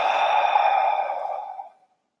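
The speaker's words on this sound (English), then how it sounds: "So take a breath in." A single long, close breath of air that fades smoothly out over about two seconds, with no talking during it.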